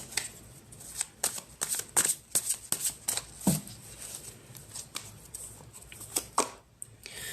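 Tarot cards are handled and laid out, giving quiet, close, irregular flicks and soft slaps of card stock, one after another, with no talk.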